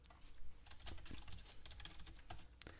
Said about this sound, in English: You would just go up here and type lime green.